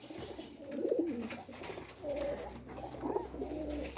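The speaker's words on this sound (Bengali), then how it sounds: "এই যে এখানে দুইটা নতুন কবুতর আছে" Pigeons cooing nearby, soft throaty coos in about three separate phrases, fairly quiet and with no voices over them.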